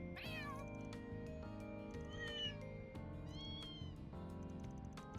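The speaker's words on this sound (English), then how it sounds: "The cats are conspiring." Several cats meow and caterwaul in Trails Beyond the Horizon, high drawn-out cries repeating over steady game music with no talk.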